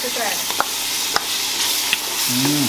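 Ginger garlic paste for chicken biryani frying in a pan, a steady loud sizzle with a few sharp utensil clicks and stirring, and a brief voice near the end.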